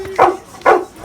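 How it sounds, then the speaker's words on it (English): Dog barking during a sheepdog bark-volume contest: two loud, close barks roughly half a second apart over quiet outdoor background. "record the volume of each dog's bark"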